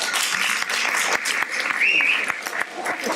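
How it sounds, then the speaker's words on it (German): Dense applause from an audience at a talk: steady, crowded clapping with sharp individual claps throughout, close and fairly loud, with a voice briefly audible over it. "Clapping does not get you out of taking your kids out of school."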